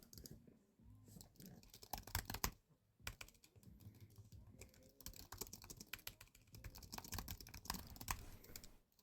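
Rapid typing on a computer keyboard, with dense irregular clicks and key taps at close range and quiet level, occasionally pausing briefly before the clatter resumes.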